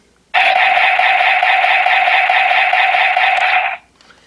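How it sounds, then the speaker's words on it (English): A continuous buzzy rapid-fire electronic sound from a King Gaburicalibur toy sword's small speaker, lasting about three seconds before cutting off. "Press and hold the trigger for rapid fire sounds."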